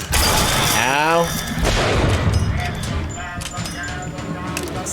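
Gunfire from a sniper rifle in BioShock Infinite, loud near blasts with mechanical clatter, layered with other game sounds and a chirping tone early on.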